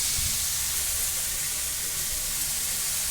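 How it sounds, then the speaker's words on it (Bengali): Breadcrumb-coated chicken tikkis frying in hot oil in a kadai give a steady, close hiss and sizzle that runs unbroken, with a low rumble underneath and no voices. "কড়ার ভিতরে গরম তেলে দিয়ে এটা আমি ফ্রাই করে নেব"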